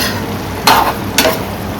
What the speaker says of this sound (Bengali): পেঁপে সেদ্ধ হতে একটু সময় লাগে, এখনো হয়নি। হোক, নাড়াচাড়া করে দিলাম